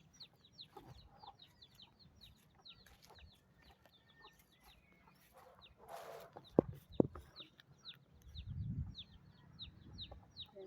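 Chicks and hens peep and cluck on a rural farm plot, soft repeated chirps scattered throughout at moderate distance, with a couple of sharp knocks and a low rumble near the end.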